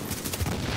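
Rapid automatic gunfire aimed at a flame turret in the shooter game Tom Clancy's The Division, a dense close burst of shots with no pause.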